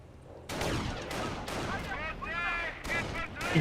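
Gunfire crackles in a Company of Heroes World War II battle, several bursts of rifle and machine gun shots with echoing tails, moderately loud and mixed with a voice speaking over the fighting.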